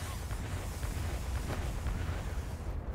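A building erupts in a string of explosions, heard as a dense, continuous rumbling roar with rolling low booms, loud and sustained, with no distinct pauses.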